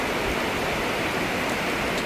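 Heavy rain pours over Central Forest Park in Bangkok during the rainy season, a steady dense hiss of falling water with no breaks or voices, close and even throughout.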